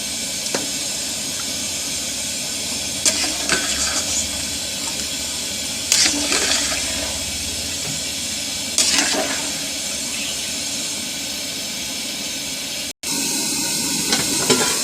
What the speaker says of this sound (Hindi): अब इसको उबाल आने देते हैं।